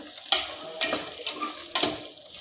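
Chopped tomatoes sauté in a pan for chicken biryani, with three sharp, close stirring scrapes over a light, steady sizzle during a short moment of cooking.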